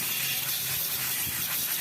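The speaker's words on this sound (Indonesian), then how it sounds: "Ya, kita semprot pakai angin kompresor." An air compressor nozzle sprays a steady, loud hiss of compressed air across motorcycle parts from a Honda Beat during an electrical repair, continuous for a couple of seconds with no talk.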